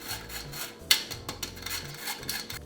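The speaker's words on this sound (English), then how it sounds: "in a sifter I'm going to add the 1/3 cup of cocoa powder" Cocoa powder is shaken through a sifter in a quick series of soft scratchy rasps and taps, close and fairly quiet.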